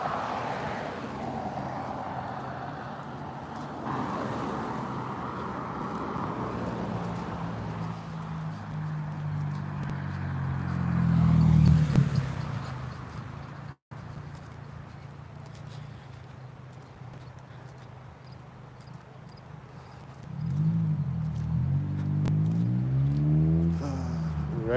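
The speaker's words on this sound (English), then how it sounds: "Right as that loud car started to drive behind me through the intersection" A loud car drives through an intersection behind someone walking, a low engine rumble that swells to a peak, drops away after a brief cut, and then another vehicle roars past toward the end.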